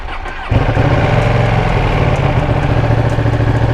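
A 2020 Ducati Panigale V2 motorcycle engine catches and settles into a loud, steady rumbling idle close by.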